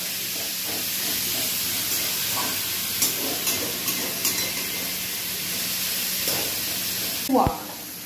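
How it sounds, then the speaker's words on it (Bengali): Chicken sizzles in hot oil with onions, a steady frying hiss running throughout with a few soft stirring scrapes, then a sharp clatter near the end. "একটু ভালো করে আগে তেলেতে পেঁয়াজের সঙ্গে ভেজে নিচ্ছি"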